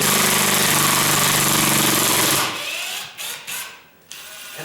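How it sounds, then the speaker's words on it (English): A loud, rapid mechanical ratcheting from a ratcheting drill driving a screw during a ceiling fan install clatters steadily, then cuts out into a few shorter bursts and quieter gaps. "that's a ratcheted drill. It's designed to make that noise"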